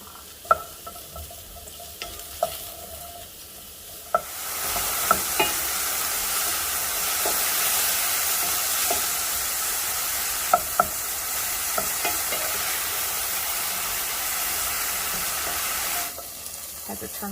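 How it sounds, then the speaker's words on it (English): Food sautéing in a preheated pan for creamy fettuccine: a loud, steady sizzle erupts a few seconds in, holds with a few sharp clicks, then cuts off near the end. "Hopefully, let's get a sizzle out of this"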